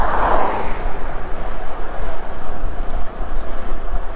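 Wind buffeting the microphone on an outdoor bicycle ride, a loud, continuous rumbling roar with gusty swells and a brief hissing burst at the start.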